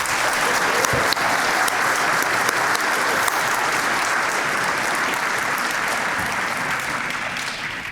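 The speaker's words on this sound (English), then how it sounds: "Let's give them all one more really big round of applause" Loud, sustained audience applause fills an academic awards banquet hall, a dense wash of many hands clapping steadily for the full length, tapering slightly at the end.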